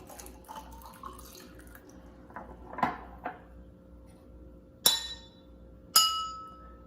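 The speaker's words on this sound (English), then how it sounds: "when we add water to the glasses, they get lower in pitch" Drinking glasses partly filled with water are struck, two bright ringing clinks with short decaying tones, close and isolated, after a couple of softer taps over a quiet room hum.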